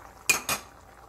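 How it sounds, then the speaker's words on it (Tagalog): Pork Bicol Express being stirred in a pot: two quick metallic clanks of a utensil against the pot, close and fairly crisp, with quiet background otherwise and no talking. "Haluin lang natin."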